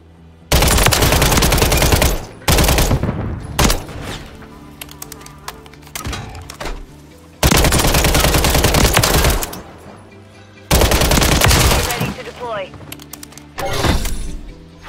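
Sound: gunfire from a gun in the video game Modern Warfare 3

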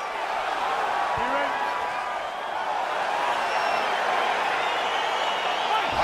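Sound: excited crowd in the video game EA Sports UFC 4

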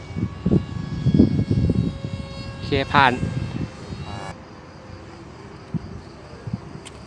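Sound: airplane flying overhead

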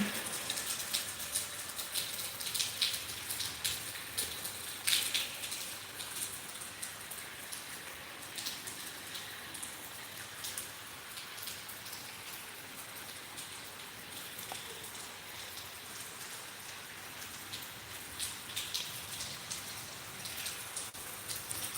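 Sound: light drizzling rain in Uttarakhand

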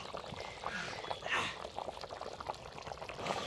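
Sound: goat head curry bubbling in a pot on a wood stove

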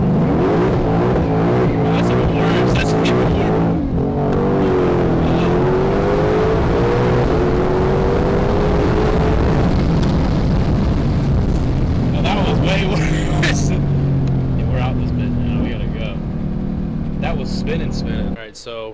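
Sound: car engine revving to warm it up

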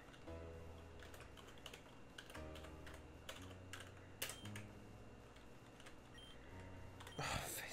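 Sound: fast typing on a computer keyboard

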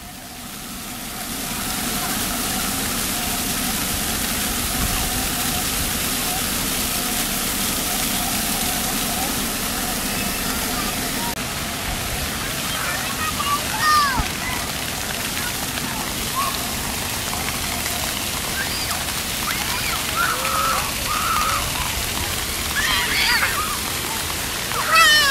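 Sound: running water, people splashing and getting wet

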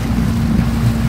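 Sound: boat on the water

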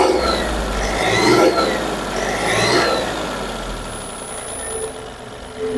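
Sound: Mahindra Xylo car engine being revved

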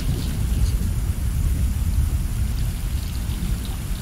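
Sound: rain and thunder in the video game Stray

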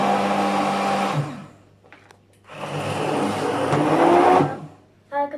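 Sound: blender running

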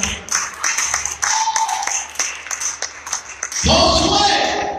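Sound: applause

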